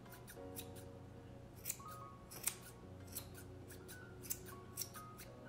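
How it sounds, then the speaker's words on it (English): Scissors snip yarn while shaping a pom pom for a St. Patrick's garland, a series of close, crisp cuts at an irregular pace with soft rustling between them. "So I'm kind of cutting it at an angle."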